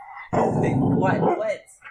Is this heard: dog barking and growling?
yes